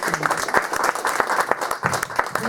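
An audience at an International Mother Language Day event gives a round of applause, close and lively, with distinct sharp claps pattering in a quick, uneven rhythm.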